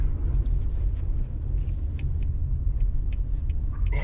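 A car in Italy pulling away with the automatic in drive and the parking brake just released: a steady low engine and road rumble, continuous and fairly loud, with faint clicks above it and no voices.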